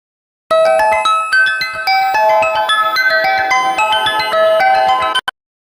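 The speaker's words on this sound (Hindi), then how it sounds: "वैसे ही आर्द्री का फोन बज उठा।" A phone ringtone plays a bright, repeating electronic melody for about five seconds, loud and close, then cuts off abruptly.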